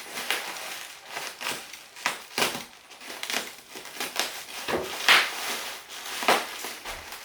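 Plastic packaging of a Cup-A-Saurus tar pit epoxy resin mixer being unwrapped up close, a string of crinkling and crackling bursts with occasional sharp tears, fairly quiet and without talk.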